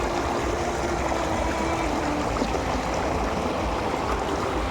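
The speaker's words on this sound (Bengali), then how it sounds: "জলের স্রোতটা শুধু দেখো একবার।" Knee-deep floodwater rushing across a main road after heavy rain, a loud steady roar of flowing water heard up close and without a break, with no voices.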